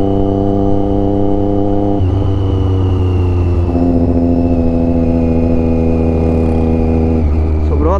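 Triumph Daytona 675 motorcycle fitted with a modified exhaust, close and loud, idling with a deep steady rumble that steps up in pitch as it is revved in stages.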